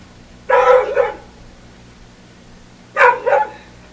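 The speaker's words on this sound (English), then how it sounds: "Was that the sound of a dog? Yes, it was." A dog barks twice, about two and a half seconds apart, each bark a short double yap at moderate distance over quiet background hum.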